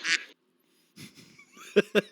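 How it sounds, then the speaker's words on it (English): A duck in a podcast's audience quacks: one loud call, a pause, softer murmurs, then three quick, sharp quacks close together at the end. "then we got a duck in the audience"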